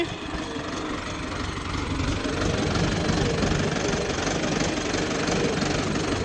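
A tractor engine runs in a sandy field, a steady loud mechanical drone with knocking texture and rough low rumble, swelling slightly midway and continuing without talk.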